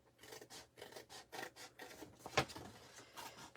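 Designer series paper being trimmed for a gift bag, a close series of quiet rhythmic rasping cuts with one sharper snip partway through.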